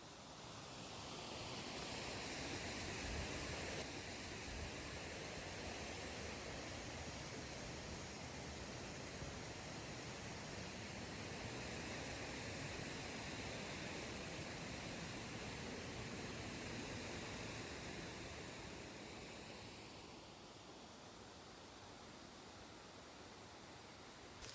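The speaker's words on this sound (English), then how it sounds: "I'd forgotten that there were actually 2 waterfalls here" A waterfall near a village on the Black Isle in Scotland pours with a steady broadband rush, close and constant for the whole stretch, easing slightly toward the end.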